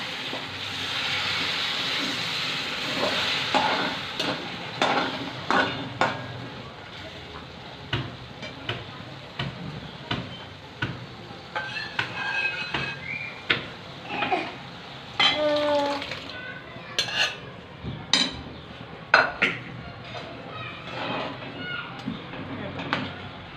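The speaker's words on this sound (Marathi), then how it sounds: "तर त्याच्यात टाकायचं शिजलेली डाळ" Cooked dal tipped into a pot of sambar and stirred, with scraping spoon strokes, clinks against the pot and a low simmering sizzle running throughout while someone talks over it.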